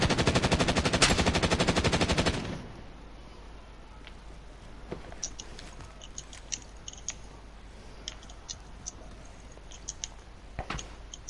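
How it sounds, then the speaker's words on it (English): Gunfire in the video game Bolo opens as a loud, rapid machine-gun burst lasting about two seconds, then fades to sparse, faint clicks and pops over a quiet hiss. "I'm under fire."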